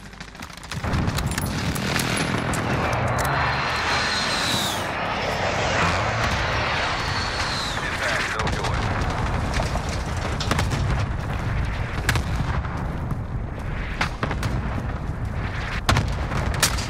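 Video game air strike with fixed-wing aircraft roaring overhead and explosions, a dense, loud rumble of engines and blasts sustained throughout with sharp bursts scattered across it.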